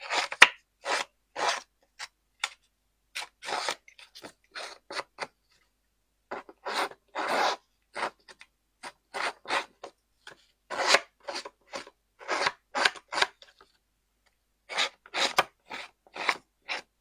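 A small hand tool roughs up the edges of material for a heirloom floral arrangement kit, giving short, close rasping strokes in irregular bursts separated by brief silences.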